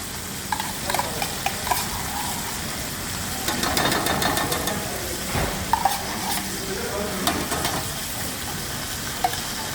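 Rack of lamb searing in a hot pan as fresh butter is added for basting: a steady, close sizzle with scattered pops and occasional light utensil sounds, with no talking.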